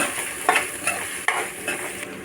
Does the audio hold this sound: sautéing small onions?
yes